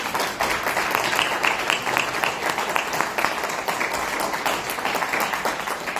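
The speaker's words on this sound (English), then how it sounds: "Round of applause for them both." Steady, dense applause from an audience at a Senate District 21 candidate forum hosted by a chamber of commerce, a continuous wash of many hands clapping without pause, fairly close and even in loudness throughout.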